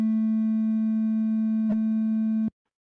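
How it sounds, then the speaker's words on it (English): A synthesized sine wave tone generated in a digital signal processing demonstration, steady and unwavering for about two and a half seconds with a brief click midway, then cutting off abruptly into silence. "So there's my 3-second long sine wave."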